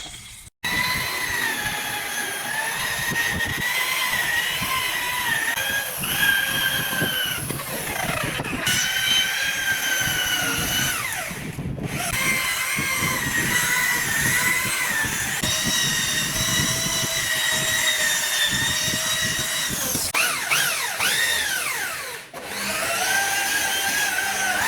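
A power polisher works on the headlight of a Maruti Suzuki Wagon R during a full service, a steady high whirring drone that runs nearly nonstop, with brief pauses and shifts in pitch as the pad moves.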